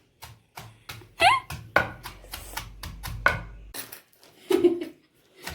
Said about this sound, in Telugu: మా అబ్బాయి చింత తొక్కుతున్నాడు